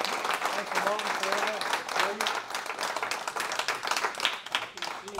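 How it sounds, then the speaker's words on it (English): An audience at a Scotland data science and technology meetup gives a speaker a sustained round of applause, dense clapping throughout with some voices mixed in. "just everybody a round of applause for Dave."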